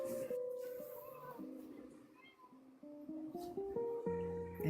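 A very loud domestic cat meows close to the microphone, giving a run of drawn-out, shifting meows that rise and fall in pitch without pause.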